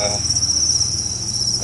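Crickets kept in a breeding enclosure chirp in a steady, dense, high-pitched trill close by, continuous and loud throughout with a low hum beneath and no talk.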